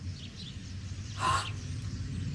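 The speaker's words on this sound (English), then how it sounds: "Birds! Look! Millions of birds!" A huge flock of birds, a sound effect in a 1978 BBC Radio 4 science-fiction drama, swells in a brief rushing burst of chirps and wingbeats above a low, steady rumble before fading back.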